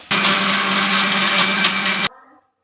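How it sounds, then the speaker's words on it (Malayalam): A mixer grinder blends papaya with milk for a cocktail, a loud, steady whirring roar that runs for about two seconds before cutting off abruptly, leaving a brief faint tail. "മിക്സിയിൽ അടിച്ചെടുത്തിട്ട് വരാം"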